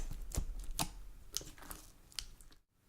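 Sharp, irregular clicks from thick, glossy lavender purple slime with fishbowl beads and charms being poked by hand, several distinct pops close up with no talking.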